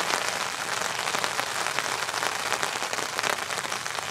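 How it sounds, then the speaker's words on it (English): Steady rain patters on a brolly shelter at an autumn fishing spot, a dense continuous hiss of drops close overhead with no other sounds. "This rain's coming down now."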